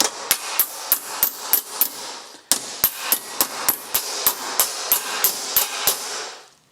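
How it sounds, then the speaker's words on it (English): A hammer strikes a steel panel held against a thicker backing piece on an old rusty car chassis, about twenty sharp metallic blows at a steady pace with a brief pause midway, close and loud. "so now I can hammer against it."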